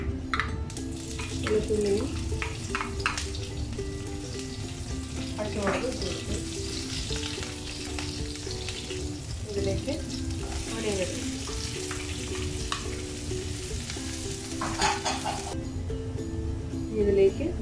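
Fennel and cumin seeds sizzle and fry in a pan with steady crackling and occasional stirring scrapes, while someone talks over it.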